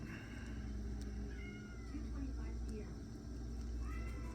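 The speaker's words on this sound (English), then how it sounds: "I got a cat going wild at me." A cat meows insistently at a door inside a workshop, several rising calls over a steady background hum.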